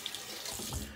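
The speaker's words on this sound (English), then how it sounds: "Cold water rinse." Water runs steadily from a tap into a sink for a cold rinse after a wet shave, a continuous close splashing rush with no voices.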